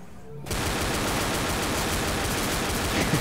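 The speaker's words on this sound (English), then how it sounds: "I was just going to continuously shoot" Continuous pistol fire in the zombie shooter Left 4 Dead, starting abruptly after a brief quiet moment and holding as a dense, loud, sustained burst of rapid shots to the end.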